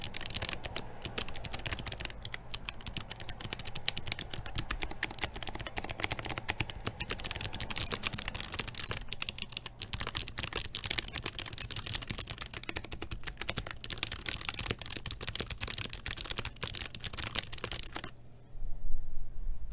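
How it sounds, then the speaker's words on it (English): Rapid, continuous clacking of Kailh Box Jade mechanical keyboard switches, close and crisp, with bursts of fast key presses that stop abruptly near the end. "let's just drop the microphone and do a bit of typing."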